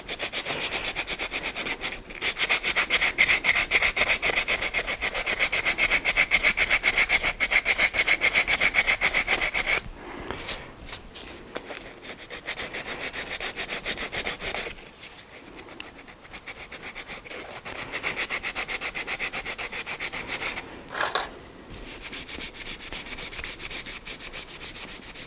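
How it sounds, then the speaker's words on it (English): Sandpaper rubs steadily over the wooden handle of a hand-forged weeder gardening tool in long back-and-forth strokes, close and continuous, with short pauses between passes. "take some sandpaper ."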